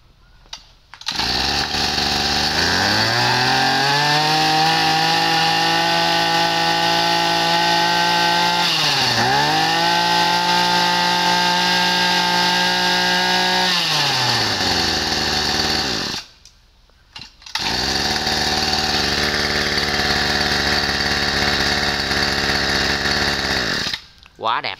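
A petrol brush cutter runs at a sales demonstration, its engine buzzing loud and close with a steady drone, a quick dip and recovery in revs midway, and a brief cut-out before it runs on again.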